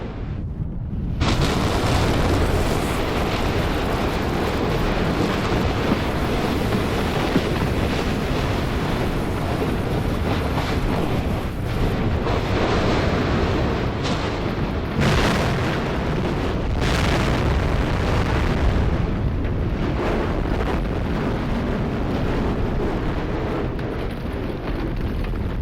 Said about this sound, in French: le bruit de la détonation qui souvent est très très fort